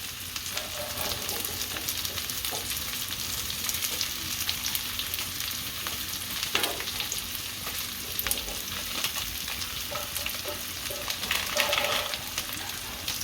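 Veg hakka noodles stir-frying with masala in a pan, a continuous moderate sizzle with intermittent stirring scrapes, no voices.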